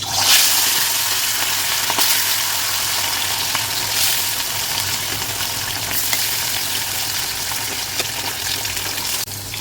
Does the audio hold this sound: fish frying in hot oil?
yes